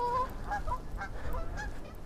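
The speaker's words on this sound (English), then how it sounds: "And I've got the Canada geese as well." Canada geese at a fishing spot give repeated loud, nasal honks from several birds in quick succession over a low rumble of wind, with no talking.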